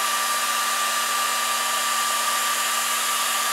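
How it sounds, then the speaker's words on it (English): Hot air gun, an industrial paint stripper type, blowing on a micro inrunner motor, a loud steady whooshing roar with a constant fan whine throughout and no talking. "just a industrial paint stripper, basically what this thing is. Hot air gun."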